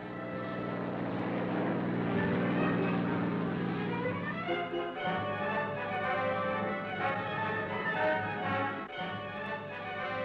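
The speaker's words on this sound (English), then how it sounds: "Planes based at Gibraltar flew over to give extra insurance for the success of the operation" Military planes based at Gibraltar flying over during a wartime operation in North Africa, a loud droning of propeller engines that swells and shifts pitch as the aircraft pass overhead, continuous and close, with no talk.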